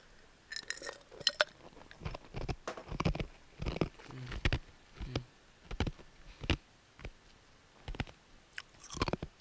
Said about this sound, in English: I have a habit of chewing ice.